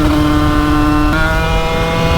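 A 90cc Bidalot motorcycle engine runs at steady high revs on a dyno while still not fully warm, a loud continuous whine with stacked harmonics that shifts pitch slightly midway, with no talk.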